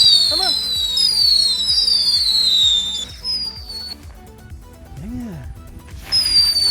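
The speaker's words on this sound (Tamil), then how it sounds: "ஆனால் அவுட்ஸ்டாண்டிங் கிராக்கர், மியூசிக்கல் கிராக்கர்ஸ்." Sivakasi Diwali firecrackers being tested at night: musical fancy crackers whistle with rising and falling shrieks over a steady run of pops and crackles, loud and close, with a faint voice and fainter bursts later.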